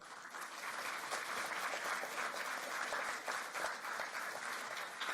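An audience applauds at the inauguration of the GIFT International FinTech Institute in Gandhinagar, sustained thunderous clapping from a full room, rising quickly and holding steady.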